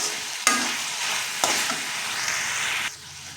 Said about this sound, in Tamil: கொத்தமல்லி இலை சேர்த்து கலந்து விட்டு இந்த அளவு சுருக்கு வரும்போது இறக்கிடலாம்